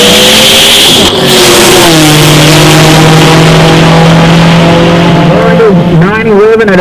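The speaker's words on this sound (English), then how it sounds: "Tyler Garlock in a Mustang. Stick shift, 2-valve, 4-modular power plant, 85 millimeter turbo on board, right hand side." A turbocharged stick-shift Ford Mustang with a 2-valve 4.6 modular engine and 85 mm turbo makes a drag racing pass, loud sustained engine roar with rising revs and shift breaks, under an announcer's commentary.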